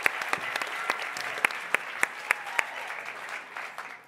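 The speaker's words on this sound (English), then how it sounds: "Give her a round of applause." Applause from a debate audience, scattered claps with a few sharp, distinct hand strikes standing out, thinning and fading away within a few seconds.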